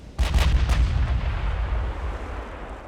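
A battleship's 17-inch guns fire in Ultimate Admiral: Dreadnoughts, one heavy booming salvo that strikes suddenly and then rolls off into a long, deep rumble that slowly fades, with no talking.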